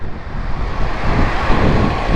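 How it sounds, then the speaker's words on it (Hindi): Steady light outdoor wind blows across the microphone as a continuous, fairly loud rushing noise with no other sounds. "हल्की हल्की हवा चल रही है"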